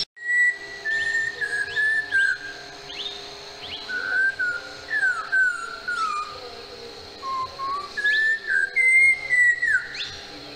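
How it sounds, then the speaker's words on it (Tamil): A bird on a Valparai hill trip gives clear whistling calls, short sliding notes repeated in bursts across the stretch, close and distinct against a quiet background. "இந்த பறவை ஏதோ விசில் அடிக்கிற மாதிரியே சத்தம் போட்டுருந்துச்சு"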